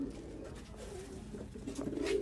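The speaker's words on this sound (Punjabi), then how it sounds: "ਰਿਜ਼ਲਟਡ ਸਲੇਟੇ ਕਬੂਤਰ।" Grey pigeons belonging to a Sialkot breeder coo softly in low, repeated throaty calls, fairly close against faint background noise.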